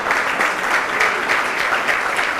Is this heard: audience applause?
yes